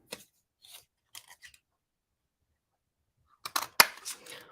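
A paper punch snaps through paper while cutting a small flag: a few quiet clicks and rustles, then a louder cluster of sharp snaps and crisp paper noise near the end.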